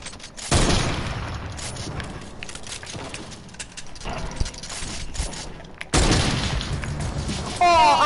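Loud video game gunshots burst at the start and again near the end, with a busy rumble of game sound in between and voices talking over it.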